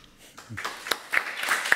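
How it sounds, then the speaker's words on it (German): Audience applause at a symposium on the history of German democracy in journalism: a few scattered claps, then a moderately loud, irregular patter of many hands from about half a second onward. "Applaus"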